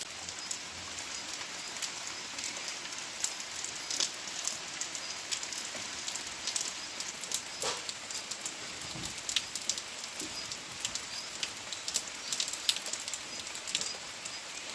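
Steady rain falls in the Pahadi hills, pattering on surfaces in a constant fine hiss with scattered louder drops, and faint birdsong comes through in places.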